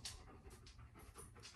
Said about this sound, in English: that is my dog panting.